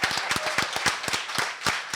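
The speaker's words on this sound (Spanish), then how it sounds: "Felicitaciones. Aplauso para Luchi." A small group clapping, with quick uneven hand claps close by and continuing steadily throughout.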